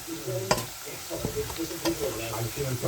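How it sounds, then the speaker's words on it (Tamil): Potatoes sizzling and crackling as they fry in a hot pan, with occasional scraping and stirring sounds against the pan, close up and continuous. "கிழங்கு வந்து நல்லா பொரிக்க தேவையில்லை, லைட்டாக பொரிச்சா போதும்"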